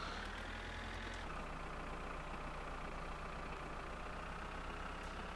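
In the video game My Summer Car, a combine harvester engine drones steadily at close range, a low continuous rumble that shifts down in pitch early on and then holds constant with no talking.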